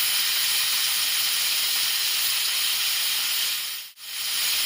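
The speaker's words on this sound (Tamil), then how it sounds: "இந்த ஸ்டேஜில் வெயிட் போட்டு லோ டு மீடியம் ஹீட்டில் ஒரு 2 விசிலுக்கு வேக வச்சு எடுத்துக்கோங்க." Steady loud steam hiss from a pressure cooker on low to medium heat, cooking mint and coriander rice, runs almost unbroken, with one brief dip before the hissing surges back.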